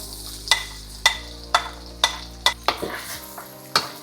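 Garlic frying in oil in a pan over medium heat, with a steady soft sizzle under roughly eight sharp, evenly spaced scrapes of a utensil stirring it.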